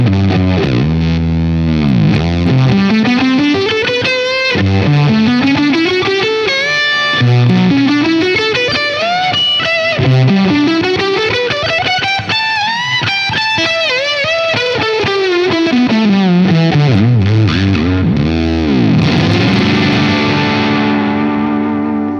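An electric guitar played through a Silktone germanium fuzz pedal run overpowered, producing loud, distorted, gated tones with sputtering note decays across a continuous melodic phrase.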